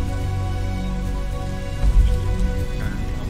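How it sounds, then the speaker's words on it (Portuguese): Steady rainfall in the Dinosaur Arcade Real video game, a dense continuous hiss of drops with low rumbling beneath and a brief swell midway, no voices present. "ele tá na chuva ainda"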